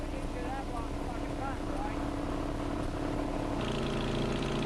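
A gasoline engine drives the sealant pump and auger on a street crack-sealing machine, a continuous close drone that shifts in tone near the end.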